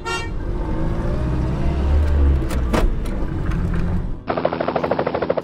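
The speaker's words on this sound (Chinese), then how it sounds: "这是一辆警车" A toy police car from a transforming Peppa Pig cruise ship playset sets off with loud electronic horn toots and siren-like bursts over steady motor noise, ending in a rapid rhythmic electronic pattern.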